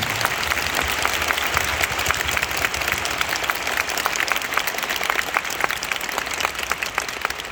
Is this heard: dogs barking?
no